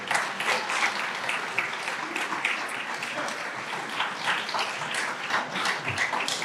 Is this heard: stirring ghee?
no